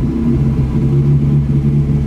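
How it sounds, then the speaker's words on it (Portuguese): A new car brakes with ABS and gives off a steady low engine rumble with a faint pulsing texture. It is heard close up with no talking. "Vou mostrar como o freio é ABS."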